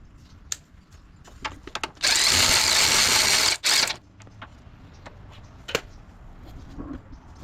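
A power drill or impact driver tightens a suspension bolt during a budget suspension replacement, a loud sustained burst of about one and a half seconds with a short second pull, set among quieter clicks and handling noises nearby.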